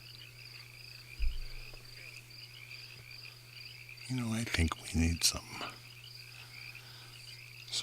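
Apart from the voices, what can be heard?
barking frogs calling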